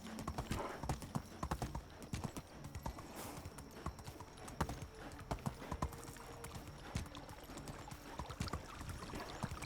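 Horse hooves clip-clop steadily in the medieval life-sim game Medieval Dynasty, a continuous close rhythm of hoofbeats with a faint whinny at times.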